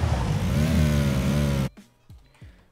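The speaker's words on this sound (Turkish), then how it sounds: "bu arabanın sesi artık illallah ettirdi" A steady, droning car engine in the video game PUBG hums at high revs, then cuts off abruptly, leaving a few faint descending whooshes and quiet tones.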